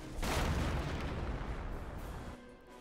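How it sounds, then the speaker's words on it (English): A 25-pounder howitzer fires in a Company of Heroes 2v2 battle, one heavy booming blast with a long rumbling tail that fades over a couple of seconds, loud and close, with no talk over it. "that's a 25-pounder gun howitzer for Delirium"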